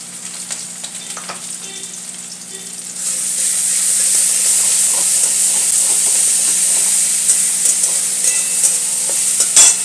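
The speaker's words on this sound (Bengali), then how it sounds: "পেঁয়াজটা ভাজা হতে হতে আমি একটু" A quieter sizzle suddenly swells into a loud, steady hissing fry as the onion and garlic paste cooks, with scattered crackles throughout.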